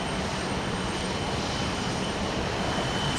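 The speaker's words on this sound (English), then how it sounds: "Looks like we've got another parallel takeoff candidate here." A plane roars steadily down the runway on a parallel takeoff at Houston Intercontinental, a loud, unbroken wash of engine noise with no break or talk.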